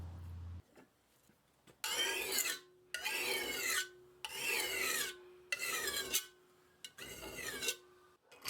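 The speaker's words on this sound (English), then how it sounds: "Our first step is to use the file to remove the swarf that the angle grinder left on here." A metal file rasps along a steel card scraper to remove grinder swarf, in five long, loud back-and-forth strokes, each a harsh scraping burst separated by short pauses.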